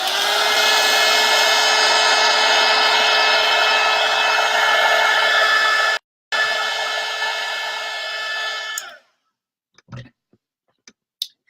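A handheld dryer blows steadily over chalk paste on a snowman craft, a loud continuous whir that cuts out briefly, restarts, then stops, leaving a few small handling taps.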